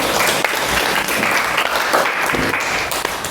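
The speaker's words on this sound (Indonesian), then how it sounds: "tepuk tangan" Sustained classroom applause during a lesson practice session, a dense steady patter of many hands clapping loudly for the full stretch with no break.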